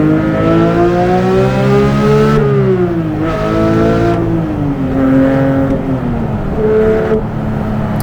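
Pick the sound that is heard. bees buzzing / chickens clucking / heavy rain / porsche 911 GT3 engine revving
porsche 911 GT3 engine revving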